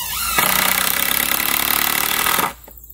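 A cordless power driver runs screws into the wooden deck of a homemade ATV bridge, a loud, steady whirring motor burst lasting about two seconds before cutting off abruptly.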